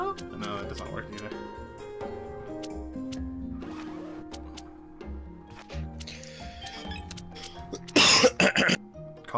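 A single sharp cough bursts out near the end of an online UNO game session, loud and close, over steady background music and faint chatter.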